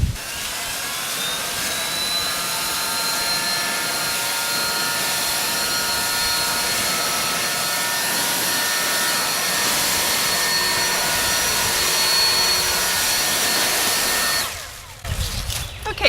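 A Yard Force 120v cordless leaf blower with a round nozzle runs steadily and loudly up close, a continuous whining rush of air pushing leaves over grass, cutting out near the end.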